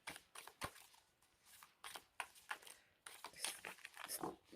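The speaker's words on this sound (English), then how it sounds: "So let's give these cards a shuffle and see how they shuffle." Stoller Tarot cards being shuffled by hand in a series of quick papery riffles and taps, close and fairly quiet, with a faint voice briefly in the background.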